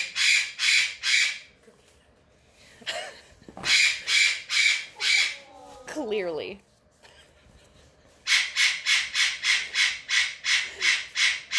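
A pet parrot squawks in repeated loud, harsh bursts at close range inside a house, with a brief spoken word in the middle and a pause before the squawks resume.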